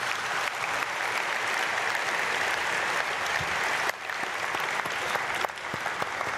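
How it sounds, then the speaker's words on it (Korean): Steady, dense applause from a church congregation at an early-morning prayer service, filling the room evenly from start to finish with no voices over it. "박수하겠습니다."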